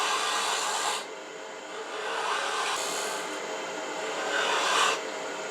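A hand saw making a pull cut through wood, giving a steady, close rasping sound in long continuous strokes with brief changes in pitch as the stroke direction shifts.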